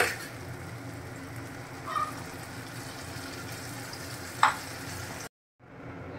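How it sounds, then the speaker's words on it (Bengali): Shahi paneer masala in a pan gives a steady, fairly faint sizzle as a little water goes in, with a couple of brief clinks and a short silent gap near the end. "এবার অল্প পরিমাণে জল দিয়ে দেব"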